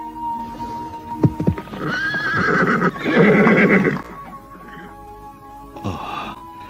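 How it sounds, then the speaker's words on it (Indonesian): Horses in a radio drama set near a temple whinny and neigh over a bed of clip-clopping hooves, with a rooster-like cluck in the background, close and fairly loud. "Kuda-kuda ini tidak pantas kita bawa mendekat. Kita ikat saja di sini."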